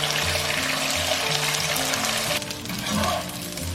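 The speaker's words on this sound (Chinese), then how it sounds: "下入腐竹， 小火慢炸。" Starch-coated tofu skin frying slowly in medium-hot oil over low heat: a steady, close hiss and bubbling fizz runs throughout, easing slightly near the end, with no talking.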